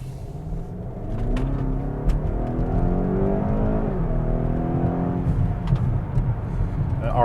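2016 BMW X5M SUV pulling out from traffic and accelerating hard on part throttle, a steady loud engine rumble with rising harmonic tones as revs climb, continuous over the full stretch with a brief shift near the end.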